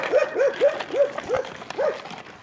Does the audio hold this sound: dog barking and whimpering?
yes